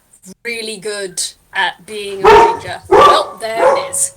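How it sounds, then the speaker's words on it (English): Dogs bark and yip in the background beneath a woman's close, continuous speech, several sharp barks scattered through the few seconds. "Don't mind the dogs in the background."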